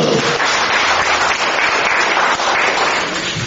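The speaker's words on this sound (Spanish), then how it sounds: "Muy bien, un aplauso." A crowd claps continuously for a few seconds, a dense, steady wash of applause with no voices.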